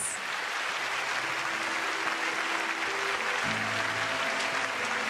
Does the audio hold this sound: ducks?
no